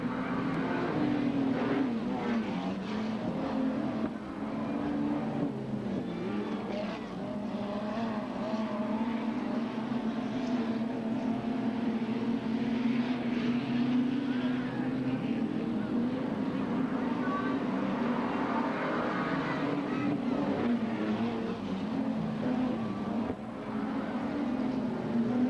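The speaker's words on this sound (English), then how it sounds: "the cars are lifting in that bottom corner" Modified sedans race at Western Speedway Hamilton in a 1991 Victorian title event, a steady loud engine drone from several cars filling the whole stretch with no pauses.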